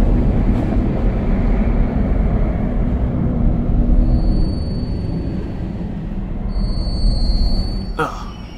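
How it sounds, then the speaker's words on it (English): Train in the video game Beyond Two Souls, a low continuous rumbling rattle of rolling carriages, loud and steady with a brief sharp clank near the end, while a player speaks over it. "This is a nice train."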